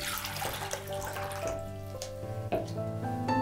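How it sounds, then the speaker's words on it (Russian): Water for a mackerel marinade pours into a metal ladle-like pot, a close, quiet splashing stream whose ringing tone rises in pitch as the vessel fills, with brief clunks and drips near the end. "В ковш выливаю воду."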